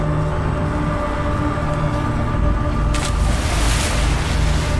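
Water sloshing and washing around in the Scav Prototype (Casualties: Unknown) sci-fi survival video game, a steady loud surf-like churn that swells brighter partway through, with no talk.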